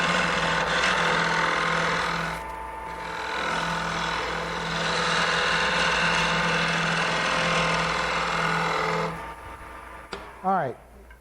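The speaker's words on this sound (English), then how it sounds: "I'm just about letting this chisel just float along." A wood-turning chisel cuts a spinning furniture part on a lathe with a steady, fairly loud rough whirring that runs for about nine seconds, then stops, followed by a short squeak.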